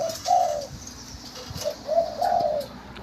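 A bird repeats a low, hollow cooing call several times at moderate distance, with a soft background hiss between the coos.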